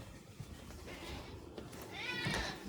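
A cat meows indoors, giving one drawn-out, rising meow near the end that stands out over a soft room background.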